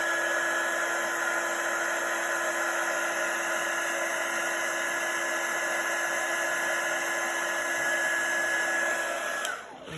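A heat tool melting clear embossing gloss on a card gives a steady, close, high-pitched whirring blow that holds evenly for about nine seconds before cutting off.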